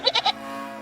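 A goat in the video game REKA bleats three quick, close, wavering calls in rapid succession, alone and clear.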